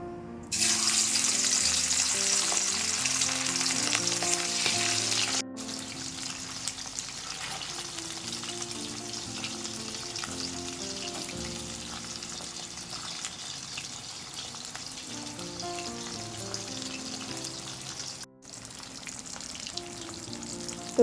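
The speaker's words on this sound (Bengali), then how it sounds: "এবার কাজ হচ্ছে এই ইলিশ মাছগুলোকে ভেজে নিতে হবে" Hilsa fish frying in a pan, with a loud, steady sizzle that starts strongly, then settles into a quieter crackle with some clinking and water-like sounds. Nobody talks.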